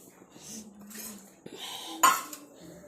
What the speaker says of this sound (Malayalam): പാത്രം കഴുകണം